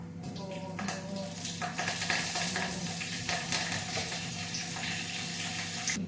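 Cumin, mustard seeds and curry leaves drop into hot oil while cooking a tondekai dish, crackling and sizzling loudly and steadily for several seconds, with scattered sharp pops.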